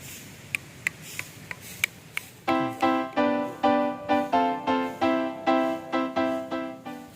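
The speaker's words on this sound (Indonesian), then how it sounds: "Ajaib ya, batunya bisa bunyi." A few sharp taps, then a steady series of bright ringing metallic-sounding strikes on a ringing stone at Gunung Padang, each tone sustaining briefly before the next, close and clear.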